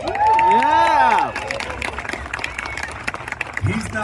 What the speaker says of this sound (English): He's not here, don't fucking applaud him.